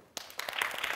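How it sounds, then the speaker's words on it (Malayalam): Children clap at a children's fest, starting with a few scattered claps that quickly build into lively group applause. "ഉള്ളിൽ യേശു ഉള്ള കൂട്ടുകാരെല്ലാം നല്ലതായിട്ടൊന്ന് ക്ലാപ്പ് ചെയ്ത്"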